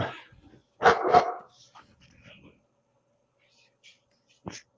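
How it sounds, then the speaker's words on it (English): A pet dog barks in a quiet house on a Sunday morning: a soft sound at the start, then two loud close barks in quick succession, followed by faint shuffling and one last short bark. "And my dog is reminding me that it is a Sunday morning."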